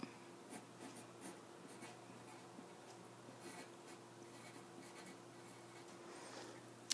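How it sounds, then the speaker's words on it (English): Pencil scratching across paper while a name is written at the top of a horizontal art sheet, a steady soft scraping with small strokes and pauses, close and quiet with no talk. "I'm writing my name at the top"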